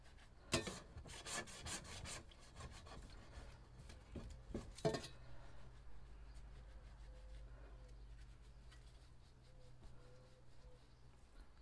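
A palette knife is rubbed to wipe spray paint off its blade while cleaning art equipment, giving soft rasping scrapes in quick bursts early on, then quieter intermittent rubbing over a low steady hum.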